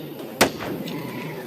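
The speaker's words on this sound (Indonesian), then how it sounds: "Wah, balon aku pecah nih yang pink." A pink party balloon pops once with a sharp, loud burst near the start, followed by a quiet room with low background murmur.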